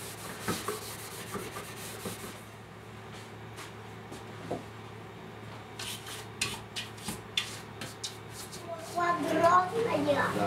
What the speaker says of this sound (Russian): сейчас последняя шлифовка